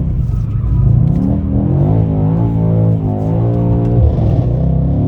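Mercedes E63S AMG driving with a loud, close engine rumble; the revs climb and drop in stepped sweeps as the gearbox shifts awkwardly several times, with no talk over it.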